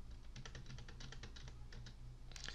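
Quick bursts of keystrokes on a computer keyboard, entering grades into a C# program, close-up clicking and tapping over a low steady hum.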